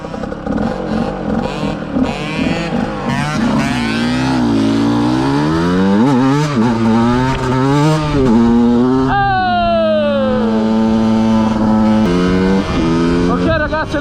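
A KTM 125 motorcycle engine revs hard on hill roads, loud and close, its pitch sweeping up and down through repeated gear changes and throttle blips.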